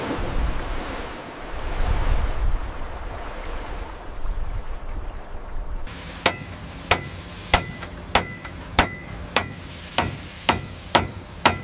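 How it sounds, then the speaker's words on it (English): A hydraulic riveting machine driving rivets into a ship's hull at the Harland & Wolff yard, heard as about ten sharp, regular metallic hammer strikes after a stretch of rushing, wind-like background noise. "The hydraulic riveting machine proved much faster, producing some 200 rivets an hour"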